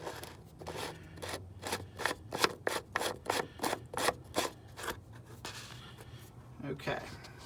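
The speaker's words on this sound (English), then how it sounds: "So now to put the cap on." Filter cap being twisted by hand onto a filter housing on a Freightliner truck, giving a series of rhythmic scraping, rasping strokes, fairly close and steady, with low background hum.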